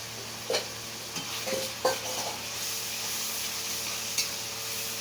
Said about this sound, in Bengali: এটা একটু তেলের মধ্যে ভেজে নেব